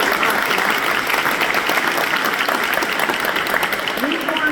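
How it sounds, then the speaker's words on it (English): Audience applause fills a City Hall room at a Hispanic community business forum, steady dense clapping throughout with no gaps, close and loud, with faint crowd murmur underneath. "Yes, you can clap."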